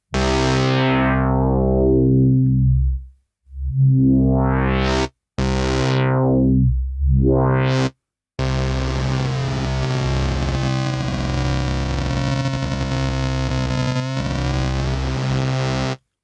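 A heavily distorted synth tone from a Novation Circuit Tracks drive unit plays a series of sustained notes with short gaps, the grit and character of the drive shifting between passages; loud, no voices.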